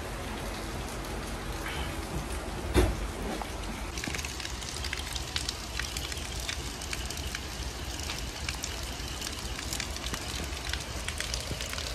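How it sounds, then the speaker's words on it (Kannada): Heavy rain pelting a train during a Bengaluru to Goa Vasco Express journey, a dense steady hiss throughout with a brief knock near the start and the wash growing louder and brighter after a few seconds. "ಹೆವಿ ಮಳೆ ಅಂದರೆ ಮಳೆ"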